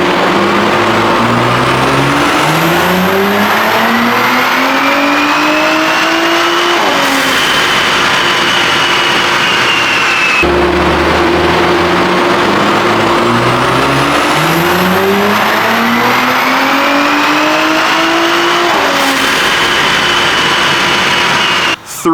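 A stage 3+ Audi B9 S4 fitted with a TTE810 turbo pulls hard on a dyno, engine pitch climbing steadily through two long, loud full-throttle runs, each ending in a sharp drop before the next sweep.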